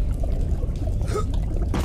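Water pours and splashes heavily in the game Bioshock Remastered, a dense, loud, continuous gush with trickling bursts, close by and with no voices over it.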